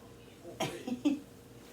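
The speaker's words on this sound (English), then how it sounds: "you're having a coughing fit" Two or three short, raspy coughs in quick succession, fairly close and isolated against a quiet background.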